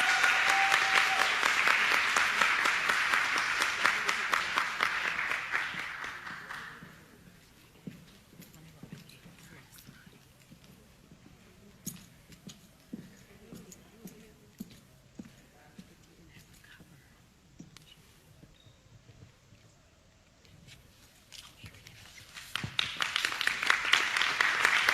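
A room of people applauds at a Board of Education meeting, a burst of clapping that dies away into a quiet stretch before another round of applause rises at the end.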